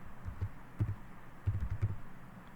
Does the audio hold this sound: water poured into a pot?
no